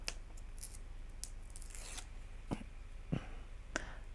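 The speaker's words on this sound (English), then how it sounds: "So that one needs peeling off." Backing paper peeled off an adhesive sheet for papercraft, giving a few short, quiet tearing rips and crinkles spaced apart against a soft background.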